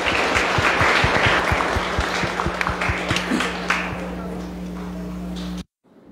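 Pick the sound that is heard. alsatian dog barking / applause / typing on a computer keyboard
applause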